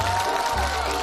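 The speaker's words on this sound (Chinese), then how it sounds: "鼓掌就干扰他了" Studio audience at a TV challenge show breaking into a short burst of applause, brief clapping mixed with crowd murmur, cut off after about a second.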